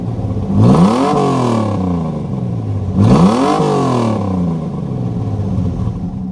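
Beater car engine with no muffler, exhaust running through straight flexible pipe out the back, idling with a loud raspy rumble and two sharp revs rising and falling, close and alone.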